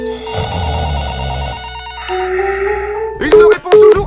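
A mobile phone rings unanswered in a late-night call prank, its tonal ringtone repeating steadily at close range before shifting pitch, with a voice briefly cutting in near the end.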